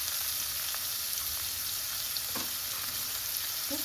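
Tomatoes with a little salt sizzle and fry in a pan while being stirred, a steady close hiss of frying with occasional scraping strokes, no voices.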